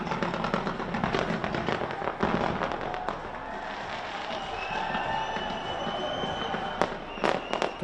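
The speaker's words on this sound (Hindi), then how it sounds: "शानदार आतिशबाजी, शानदार लाइटिंग का नज़ारा।" New Year fireworks and firecrackers bursting in a continuous barrage of crackling pops and sharp bangs, with a few louder blasts near the end, dense and steady throughout.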